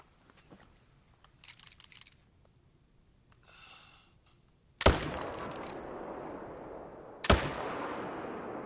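Two sharp, loud hunting-rifle shots ring out in theHunter: Call of the Wild on Askiy Ridge, a few seconds apart, each with a long echoing tail, after quiet ambient sounds and soft clicks.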